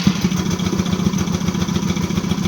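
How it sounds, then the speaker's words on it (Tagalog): A Yamaha BWS scooter engine, just restarted after a spark plug and injector check, runs rough and noisy with an uneven, stumbling putter and clatter, close and steady throughout. "Nung umandar, palyado at maingay yung makina."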